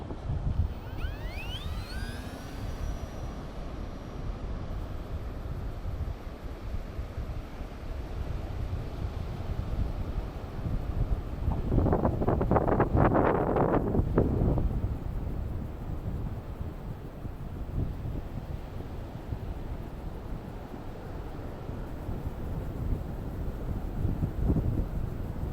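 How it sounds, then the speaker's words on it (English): Steady wind buffeting the microphone outdoors in an 18 km/h southerly breeze, a constant low rumble with a louder gusty swell midway and a faint distant engine whine early on. "So the wind is 18 kilometers an hour."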